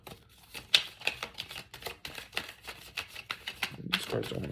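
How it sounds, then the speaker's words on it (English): A deck of tarot cards being shuffled by hand gives quick, irregular riffling and slapping bursts, close and soft, with a voice talking quietly through parts of it. "these cards don't want to shuffle."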